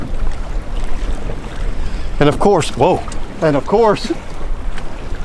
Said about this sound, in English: it just gets windy